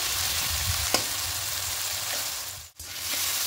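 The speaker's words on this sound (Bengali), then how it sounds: "খুব ভালো করে কষিয়ে নেব, একটু টমেটো পেঁয়াজটা নরম হয়ে যাওয়া পর্যন্ত।" Tomato and onion with salt stir-fry in a pan with a steady close sizzle and scraping stirs, the sizzle dipping briefly near the end before resuming.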